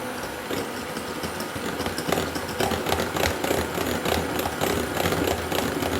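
Electric mixer whisking egg whites with a little sugar, stepped up to a higher speed; a steady, dense motor whir runs continuously and fairly loud, with a slight rise partway through.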